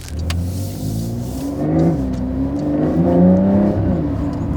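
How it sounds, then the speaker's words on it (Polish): A sports car with an Akrapovič titanium exhaust revs steadily with a deep, throaty exhaust note that rises and falls, loud and close, with no talk. "Mamy układ wydechowy jeszcze też zmieniony na taki topowy akrapowicz z tytanu, więc też ten dźwięk jest tutaj podsycony"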